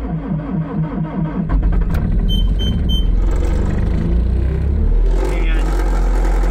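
A cold engine cranks and catches, a rhythmic starter churn giving way to a loud, steady low rumble of idling, with a few electronic beeps sounding partway through.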